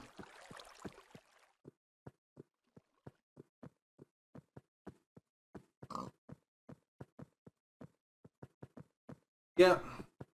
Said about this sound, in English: Oh, he's a rather hurt pig,